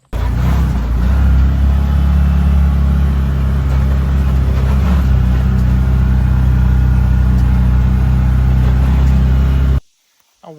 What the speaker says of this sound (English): We'll get on the Can-Am. We'll ride down there